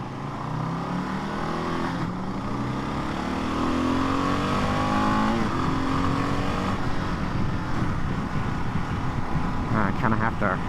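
A Kawasaki KLR 650 S motorcycle accelerates while being ridden, its engine note climbing steadily and loud up close with rising and falling revs and steady wind noise.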